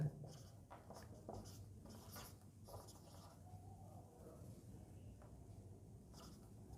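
Pen or marker scratching across a board or paper while working an integrals maths example, a series of short faint strokes in a quiet room.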